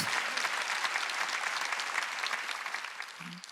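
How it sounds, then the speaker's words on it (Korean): A congregation at an Easter Sunday church service applauds in a dense, continuous wash of clapping that holds steady and tapers slightly at the end. "박수"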